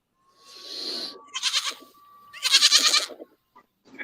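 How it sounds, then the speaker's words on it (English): A goat gives three loud, close, wavering bleats in quick succession with short gaps between them, followed by a few faint trailing sounds. No one speaks. "That stupid goat noise."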